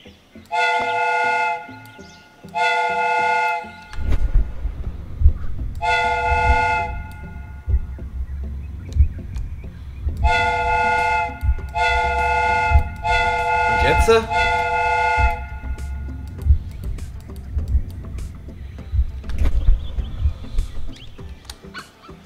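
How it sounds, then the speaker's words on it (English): A steam whistle on a replica train in Sherlock Holmes: Crimes and Punishments gives several short, loud, chiming blasts in a stop-start rhythm over a low mechanical rumble, with voices talking in between. "The steam whistle is ready to be used."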